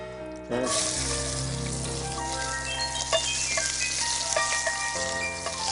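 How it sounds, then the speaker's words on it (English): Onions sauteing lightly in a pan, a sizzle that starts abruptly after a brief pause and then holds as a steady crackling fry with occasional sharper pops, close and fairly loud, with no talking. "And with my onions, I'm just going to saute lightly, just so that they'll take on a clear colour itself"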